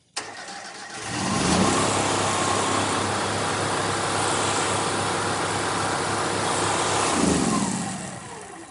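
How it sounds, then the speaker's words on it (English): An American Jetter 583 sewer jetter engine cranks and catches, then runs at a steady, loud mid-pitched drone for several seconds before revving and winding down. "And then we'll start the engine."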